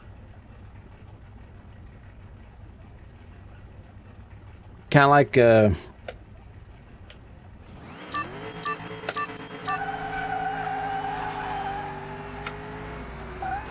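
Supercharged El Camino engine in Car Mechanic 2021 revving up and settling into a steady, rumbling drone after a brief burst of speech, loud and close with sharp throttle blips over the sustained tone.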